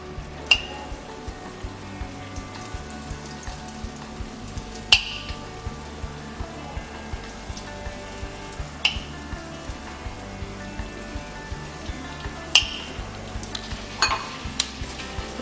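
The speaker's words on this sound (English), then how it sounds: "meanwhile the chicken is frying" Chicken fries in hot oil with a steady crackling sizzle throughout, broken by a few sharp utensil clinks against the pan.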